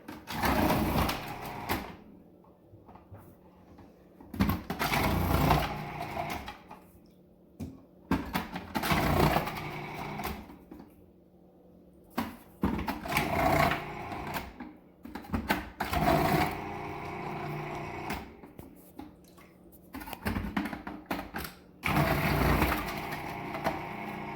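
A kitchen machine slicing potatoes runs in repeated bursts of whirring, mechanical noise separated by short pauses, loud and close, with no talk over it.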